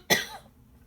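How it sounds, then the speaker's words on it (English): A woman gives a single sharp cough, close and abrupt, fading quickly into quiet room tone. "I'm gonna cough, sorry."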